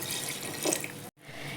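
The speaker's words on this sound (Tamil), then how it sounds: "இப்போ நம்ம தண்ணி ஆட் பண்ணிக்கலாம்." Water runs briefly from a tap into a pot for vegetable biryani, a short close splashing pour that cuts off abruptly before resuming.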